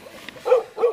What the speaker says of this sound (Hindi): यहाँ पे कुत्ते बहुत सारे भौंक रहे इधर